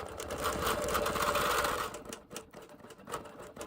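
A sewing machine finishing a run of quilting stitches, loud and close with a fast steady whir that stops near the two-second mark, followed by a few short mechanical clicks and taps as it ties off.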